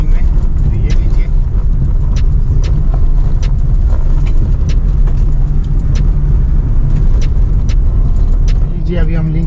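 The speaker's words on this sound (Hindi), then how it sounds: "अब हम दिखाएंगे आपको थोड़ी रफ्तार ऑफ रोडिंग में" A car climbs a steep off-road slope, its engine and tyres producing a loud, continuous rumble with clatter and wind buffeting close to the microphone.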